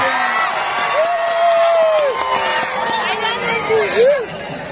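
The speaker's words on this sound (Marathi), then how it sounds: "आणि टाळ्या करा की टाळ्या टाळ्या टाळ्या टाळ्या टाळ्या." A crowd at a village wrestling match in Mandrup, Solapur claps and cheers, a broad steady roar of applause and babble under a loud announcer's voice.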